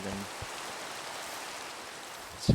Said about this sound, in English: I'd really like to get through the rain